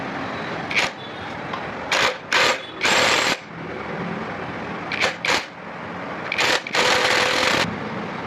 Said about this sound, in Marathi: याला आपण आता न्यूमॅटिक गनने टाईट करतो आहे